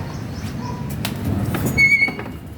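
A pigeon arriving at home to eat grain gives a couple of brisk wing-flap bursts with faint squeaks and clicks over a low background hum, fairly close and without speech.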